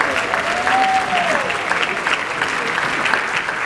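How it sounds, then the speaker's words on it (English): Sustained audience applause for a group of young people at a gathering, a steady dense clapping that carries through the whole stretch with a faint voice briefly audible over it. "I want to give these young people another hand."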